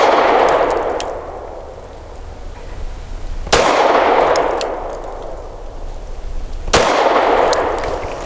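An FN 509 pistol fires Federal Punch 124-grain jacketed hollow points, two sharp, loud gunshots about three seconds apart, each followed by a long echoing decay, with no talking.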